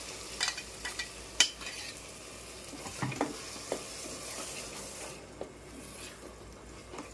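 Ground masala paste being stirred and fried in a pan for an egg, drumstick and potato curry, with steady sizzling and scraping spoon strokes at close range, no talking.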